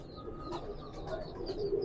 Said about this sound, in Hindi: बहुत ही ज़बरदस्त कबूतर है